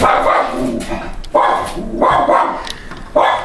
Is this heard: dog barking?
yes